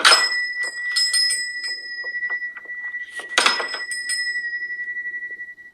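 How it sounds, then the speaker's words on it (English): A shop door bell at a confectionery rings as someone enters, giving two bright bursts of jangling chimes with lingering metallic tones that ring out between them, heard close and alone. "Hearing the bell, May Morrison enters the main shop from the"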